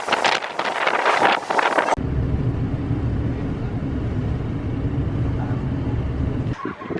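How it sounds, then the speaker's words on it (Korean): Strong wind buffeting the microphone on an outing in Taichung, Taiwan, first as harsh broadband gusts for two seconds, then as a steady low roar that holds loud and continuous until a brief drop at the end. "바람 진짜 많이 불어요."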